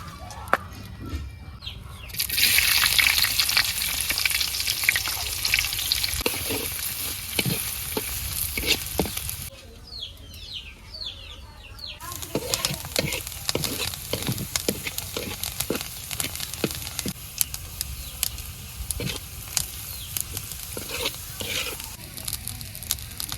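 Reha frying in a pan in a village kitchen, a steady close sizzle with stirring scrapes and clicks throughout, and a rooster or hens clucking faintly in the background.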